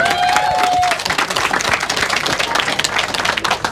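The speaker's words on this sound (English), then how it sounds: "please join me in a round of applause in welcoming TM Logan." An audience claps to welcome crime author TM Logan at a Harrogate book event, a broad, dense patter of many hands filling the room for a few seconds, with a brief whistle-like tone early on.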